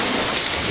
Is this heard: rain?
yes